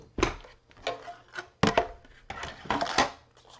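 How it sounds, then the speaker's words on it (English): Paper stamping die cut machine being cranked through a cut, heard as a series of close, uneven crunching and rolling bursts with short pauses between them. "So I'm going to bring in my die cut machine."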